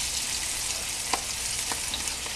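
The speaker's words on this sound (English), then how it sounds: "And we're not really deep frying this." Pig's tails shallow-fry in hot oil, one side at a time, giving a steady, dense sizzle close by with a few faint pops and no talking.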